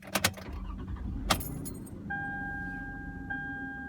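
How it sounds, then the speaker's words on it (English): A 2010 Toyota Camry with a failing alternator starts up: a few sharp clicks and a brief cranking burst settle into a steady idle with a thin, high electrical whine on top. "turning the car on"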